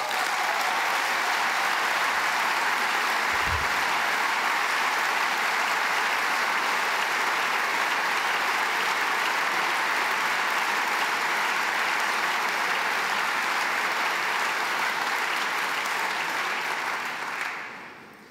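Sustained audience applause at an Austrian chancellor's political speech, broad even clapping from a large crowd holding steady for many seconds before fading out at the end.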